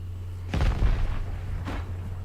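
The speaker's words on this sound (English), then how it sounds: "Calling in that airstrike right over there, further in." Video game airstrike explosions: a heavy, close blast with rumbling low boom, then a second fainter detonation a moment later, over a steady low hum.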